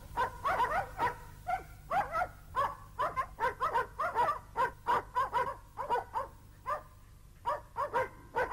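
Spitz-type hunting dog barking repeatedly in quick bursts, a steady string of sharp, close, fairly loud barks over a low background hum, with no talking.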